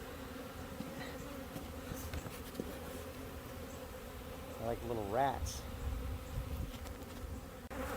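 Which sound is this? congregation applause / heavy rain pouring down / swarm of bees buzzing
swarm of bees buzzing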